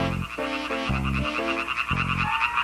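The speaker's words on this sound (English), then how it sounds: "Dan brings his pet, a frog named Slime" A pet frog croaks repeatedly in short rhythmic bursts, some lower and some higher, over a steady musical backing in a children's English story, with no talk.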